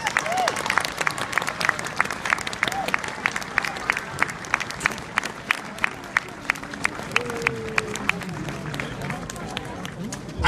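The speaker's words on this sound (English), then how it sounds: "Again, a big round of applause for our reenactors." Crowd applause at an outdoor 1916 Easter Rising reenactment in Waterford, Ireland, steady clapping spread across a large audience with scattered voices and a whistle-like call, continuing throughout.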